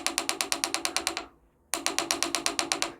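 Engine spark knock from a bad knock sensor while the gas pedal is pressed: rapid, loud, metallic ticking in two steady runs split by a brief gap, close up and alone.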